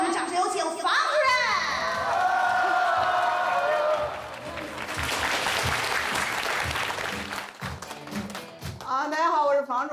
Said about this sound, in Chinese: 来，我们掌声有请房主任。